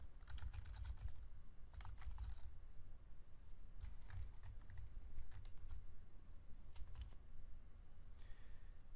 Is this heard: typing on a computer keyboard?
yes